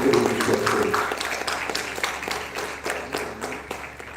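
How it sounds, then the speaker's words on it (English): Audience applause at a national Coal India seminar, a steady wash of clapping from a crowd that holds loud for the first second and then continues evenly at a slightly lower level throughout. "Have a good, big applause for Srimati Rupinder Barar"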